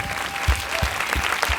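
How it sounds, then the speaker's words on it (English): Audience applause at a DOC NYC 2021 documentary Q&A in a theater, a steady wash of many hands clapping with a few louder claps standing out, filling the short moment without talk. "Should give a really big round of applause."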